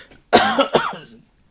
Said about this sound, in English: Cough, man.